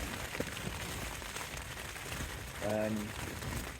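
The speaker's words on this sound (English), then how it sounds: "it started raining quite heavy as well now" Steady heavy rain hisses throughout on a windy wild camp in the Brecon Beacons, with a brief tonal whine partway through and no clear speech.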